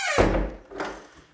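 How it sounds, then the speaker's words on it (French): Old wooden door or floorboards in a rustic stone house dormitory, giving a sharp thunk followed by a drawn-out creaking groan and a second softer creak, close and alone. "Alors, tout grince, évidemment."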